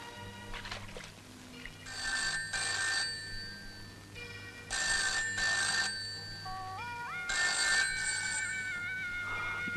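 An electronic telephone ring repeats in bursts of trilling tones, with a short rising chirp between them, heard over a low steady hum in an indoor movie scene.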